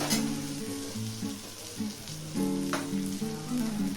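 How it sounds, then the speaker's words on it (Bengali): Spice paste (masala) sautéing in oil for a banana kofta curry, with the oil separating: a steady, close crackling sizzle that swells and crackles louder partway through, and no voices. "মশলাটা কষানো হয়ে গেছে, তেলটা ছেড়ে দিয়েছে।"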